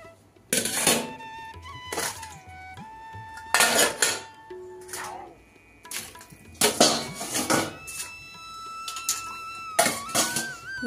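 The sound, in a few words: washed utensils being put away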